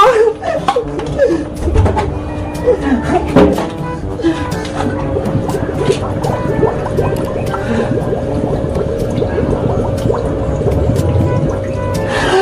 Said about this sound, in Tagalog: Lalagyan ko na tong tubig, tong water blaster ko.